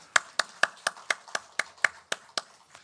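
A church congregation's blessing clap during a Sunday worship service, a single steady rhythm of about a dozen sharp, evenly spaced unison claps, fairly faint and with no talking.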